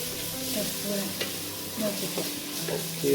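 Ginger paste being stirred in a hot pan for chicken roast, with a steady sizzle under repeated scraping strokes and soft utensil knocks, close by, with no voices.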